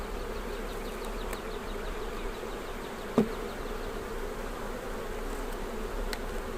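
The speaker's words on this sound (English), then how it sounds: "We still have plenty of bees up here to keep them warm." Carniolan honey bees hum in a dense, steady buzz at an open hive during a spring check, close and constant, with a single sharp knock partway through.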